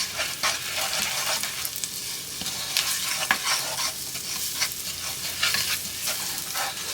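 Food sizzling and frying in a hot pan on a home stovetop while homemade spaghetti sauce is cooked, a steady loud crackle with scraping stirring sounds and no talk.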